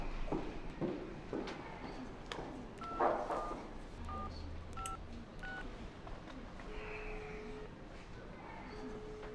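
A telephone number being dialed, a short sequence of distinct DTMF keypad tones in a quiet indoor scene, with soft background noise and faint movement.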